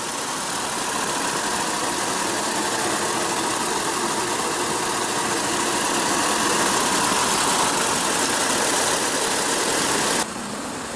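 A 2015 Toyota 4Runner's 4.0 L V6 runs at a steady, even drone, much like road cruising, holding constant loudness for the length of the clip and then dipping slightly near the end.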